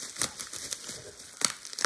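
Packaged box for a Neo Geo game being opened by hand, close crinkling and tearing of wrapping in short bursts, with sharp rustles near the start and end and a quiet patch between.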